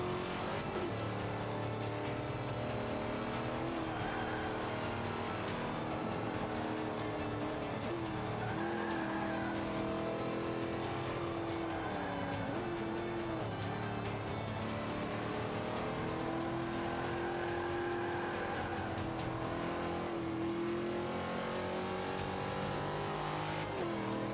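A race car engine in Forza Motorsport 5 roars continuously as the car crosses the finish line, revving up and down with bursts of tire squeal throughout.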